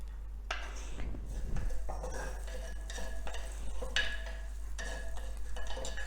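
Garlic frying in a pan for a dry or thin chickpea-greens dish, with stirring scrapes and soft sizzle running steadily throughout, close and moderately loud, with no talking.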